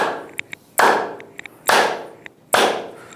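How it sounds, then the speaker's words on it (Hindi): Three loud, sharp hand claps ring out at an even, unhurried pace during a seated yoga exercise, each a crisp close slap, with a few faint taps in between. "ताली बजाना,"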